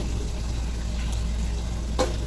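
Buffalo meat hits a pan of fried spice paste and sizzles steadily, a close, even frying hiss with a brief scrape or spatter near the end.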